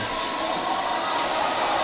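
A crowd cheers at a boys varsity high school hockey game between St. Paul's School and Phillips Andover after an overtime win, a steady, dense roar of many voices filling the whole stretch.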